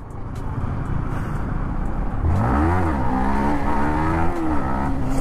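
A motorcycle engine revs hard during a wheelie, its rising and falling pitch sweeping up over steady wind and road rumble, loud and close for the last three seconds.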